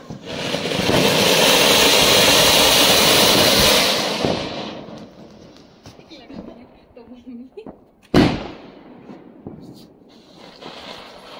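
Firecrackers bursting at a Diwali celebration in the hills, a long loud crackling roar followed by scattered pops and one sharp bang, with people talking and cheering in the background.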